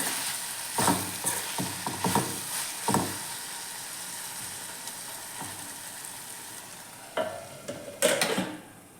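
Bitter gourd cooking in a pan for a sweet and spicy gojju gives off a steady soft sizzle, broken by clusters of scraping stirring strokes that come and go.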